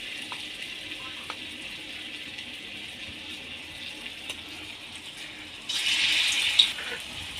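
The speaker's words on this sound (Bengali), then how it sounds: "এবার এক একটা পনিরকে তুলে নিয়ে ব্যাটারটার মধ্যে ডুবিয়ে আমি তেলের মধ্যে দিয়ে দেব" Batter-dipped paneer pieces for chilli paneer fry in hot oil in a home kitchen with a steady, soft sizzle that swells into a louder, bubbling hiss as more pieces go in.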